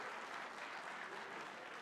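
Applause from an audience at a Ramayana festival event, a steady dense wash of many hands clapping together, fairly even and continuous throughout without pause.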